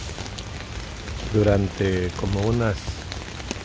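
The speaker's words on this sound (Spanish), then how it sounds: "Sigue la lluvia en Los Ángeles, aquí siguen cayendo las tormentas." Steady rain pours down during storms in Los Angeles, a constant hiss of drops on surfaces throughout while someone speaks Spanish over it.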